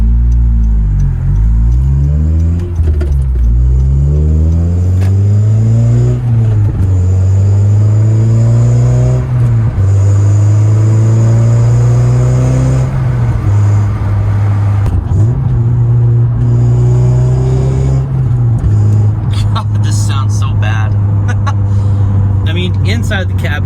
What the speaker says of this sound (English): It's hard to even focus on the exhaust sound itself because the hiss is so bad.